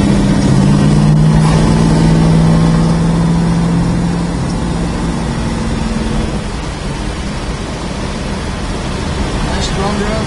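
A 1969 Dodge Charger with a 440 engine drives along, its low, steady drone loud at first and gradually easing after about six seconds, under a constant wash of road and wind noise.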